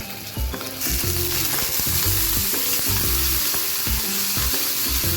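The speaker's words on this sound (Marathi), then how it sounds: "हे तेलात टाकले ना थोड्याशा वाजतात आणि याचं तेल उडून आहे" Green chilies for thecha crackling and sizzling in hot oil in a pan, a loud close continuous fry with sharp popping spatters throughout.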